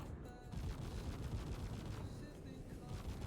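Ship cannons on a Buccaneer in Star Citizen fire in a dense, continuous rumbling stream during a fly-by attack, heard fairly faint and steady throughout, with some speech mixed in.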